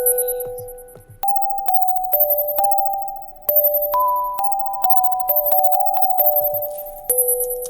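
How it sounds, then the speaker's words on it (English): A basic Ableton bell sound plays a stepped melody in an electronic beat. Clear, ringing struck tones follow one another in a regular rhythm, each decaying before the next, loud and with no other sounds. "I added a little basic Ableton bell"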